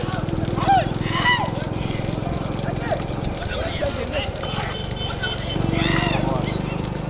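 Bullocks race pulling a double-bullock cart, their hooves clip-clopping in a fast, steady rhythm that stays loud and close throughout, under excited shouting and commentary.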